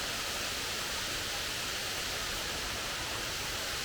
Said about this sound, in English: I think this is the falls.